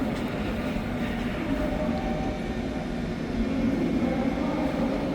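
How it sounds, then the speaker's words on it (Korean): A KTX high-speed train sits at Seoul Station in the early morning, giving off a steady low rumble and hum that stays even throughout, with no voices. "오늘 서울역에서 새벽 KTX를 탈 겁니다"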